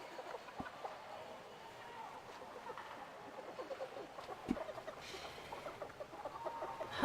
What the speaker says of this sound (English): Am I hearing chicken?